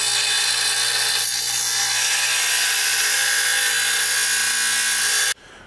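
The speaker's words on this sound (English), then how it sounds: "So you want to just grind that little portion down there." A grinder shrieks steadily and loudly close up as it takes down the metal lip of a gasket flange on an HE351 turbo, then cuts off abruptly near the end.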